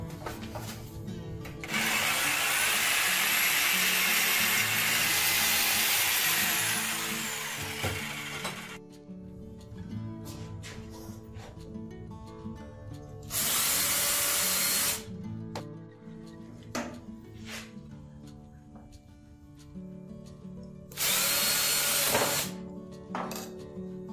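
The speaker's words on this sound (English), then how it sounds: "I'm gonna open up the diameter of that a little bit. I still need to leave enough to mount it. And I'll just use my jigsaw for that." Jigsaw cutting plastic while a Delta 43-375 shaper is set up, a loud buzzing run of several seconds, then quieter workshop handling noise broken by two more short bursts of the saw.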